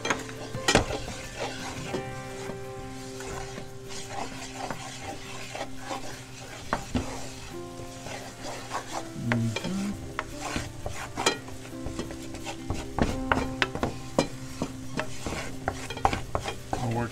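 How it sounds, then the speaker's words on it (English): Flour being stirred into a sizzling pan, a steady fry hiss under repeated scraping and clinks of a utensil against the pan, close and busy throughout. "We're going to stir it, just keep stirring it in."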